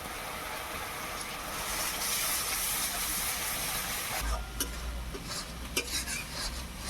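Onion paste and turmeric sauté in a pan while being stirred, giving a steady close hiss and sizzle with a few sharp utensil clinks toward the end.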